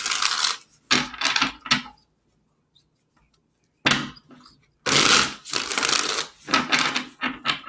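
Tarot cards being shuffled by hand in bursts of crisp riffling and slapping, close up, with a quiet pause in the middle before the shuffling resumes.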